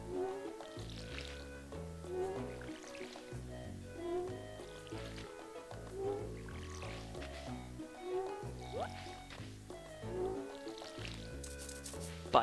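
Crops are watered with a watering can in the farming video game Stardew Valley, producing repeated soft splashing pours at a regular rhythm, roughly every two seconds, over light game music.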